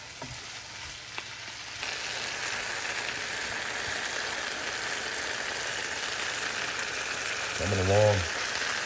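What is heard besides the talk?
stir frying vegetables in a pan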